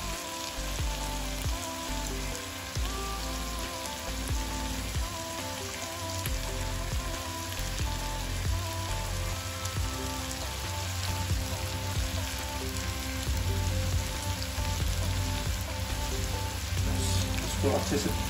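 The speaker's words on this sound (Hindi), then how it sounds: "अब इसके बाद डालेंगे सोया सॉस।" Soy sauce hits a hot pan of homemade chicken pasta, producing a steady, dense sizzle that holds for the whole stretch at close range, with no pauses or talking over it.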